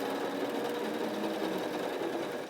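An Intelliquilter computerized quilting machine stitches with a ruler foot, producing a steady, close, continuous mechanical whir with fast rhythmic needle chatter and no talking.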